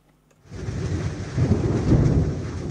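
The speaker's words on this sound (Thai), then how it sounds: "ช่วงนี้ฝนทั้งตกหนักลมก็แรง" A thunderstorm breaks after a brief silence: deep rolling thunder swells over the dense hiss of heavy rain, loud and continuous to the end.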